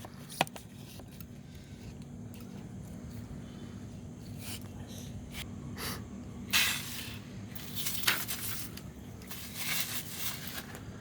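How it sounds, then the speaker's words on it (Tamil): Several short hissing bursts from a hand sprayer misting liquid, spaced irregularly over a low steady hum. "செடிகளுக்கும் ஸ்ப்ரே பண்ணலாம், இலைக்கும் ஸ்ப்ரே பண்ணலாம், மண்ணுக்கும் கொடுக்கலாம்"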